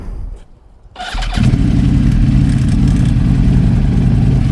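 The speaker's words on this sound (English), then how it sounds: "just start your bike and let it warm up for a little bit" A motorcycle engine cranks and catches after a brief quiet moment, then settles into a steady, loud, close idle as it warms up before a ride.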